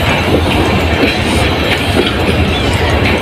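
A Pakistan Railways train rolls along the track near a station washing line, with a steady, loud rumble and rattle of wheels and carriages throughout, without pauses.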